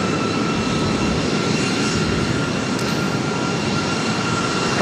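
Alaska SkyWest Embraer E175 jet airliner at LAX, a steady, loud broadband roar of jet engines filling the whole stretch without a break, with no voices over it.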